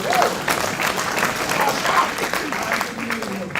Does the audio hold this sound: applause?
yes